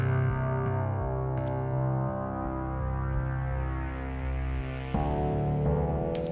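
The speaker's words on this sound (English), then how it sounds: "it's like a synth pluck" A thick, buzzy synth bass line plays continuously and loudly, holding one low pattern before shifting to new notes near the end.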